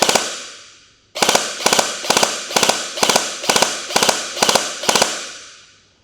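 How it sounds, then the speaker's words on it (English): A Double Eagle DMP-9 airsoft gun fires in ten rapid bursts, each a tight cluster of sharp close cracks, evenly spaced over several seconds after a lone shot's fading tail. "Now I have to fake that I have a magazine inside, and we just shoot 30 rounds."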